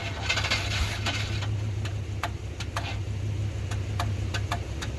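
Old Chevrolet Suburban engine, unused for several years and running on priming gas, idling with a steady low rumble and a light irregular ticking over it.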